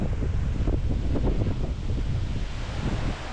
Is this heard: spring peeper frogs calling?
no